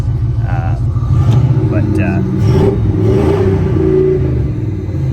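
The V8 engine of a 1980 Ford F100 custom pickup rumbles loud and close, rising and settling in a few revs with a deep, throaty idle underneath; someone talks over it.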